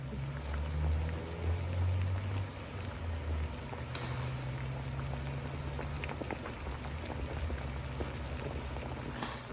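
Seasoned stock boiling in a pot, a steady dense bubbling and hissing that continues throughout with a low rumble underneath, close and even, with no talking.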